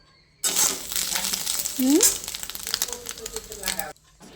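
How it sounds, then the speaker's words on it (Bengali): Rohu fish roe fries in hot oil in a wok with a loud, bright sizzle and crackle. It starts abruptly and runs for several seconds, with a brief tonal squeak in the middle, then cuts off. "কড়াইয়ে তেল দিচ্ছে এখন মাছের ডিমটা ভাজা করে নেবো"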